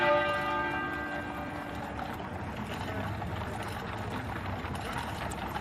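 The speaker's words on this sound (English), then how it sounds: "At 9:08 a.m., the great tenor bell at Westminster Abbey began to toll" The great tenor bell of Westminster Abbey tolls, its long resonant hum ringing steadily and sustained from the start amid a broad outdoor wash of ambient noise.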